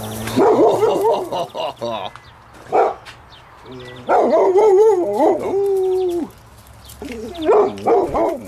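A dog in a workshop barks and howls in several bursts, up close and loud, with pauses between them, reacting to the noise of an air compressor.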